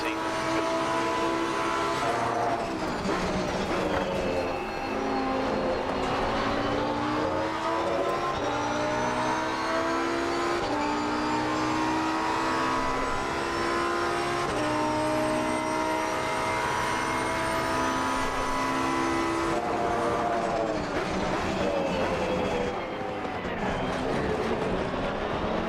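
Porsche race cars in Assetto Corsa Competizione accelerating hard out of a corner, a sustained, rising engine whine that climbs steadily in pitch with gear changes, loud and continuous.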